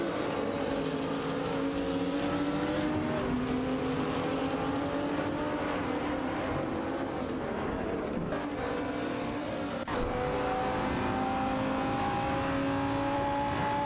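GT3 race cars, a Renault Sport RS1 GT3 and a Ferrari GT3 among them, roar past in a racing video game, with layered engine whines rising and falling through gear changes and a sharp shift in pitch as one overtakes near the end.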